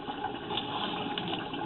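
Water rushes and gurgles steadily around a sewer camera being rinsed inside a public sewer line, a continuous, muffled flow with no talking.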